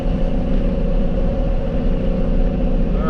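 A Chevy delivery truck with an LS swap drones loudly and steadily from inside the cab, its engine note rumbling low and constant with no audible break for a gear change.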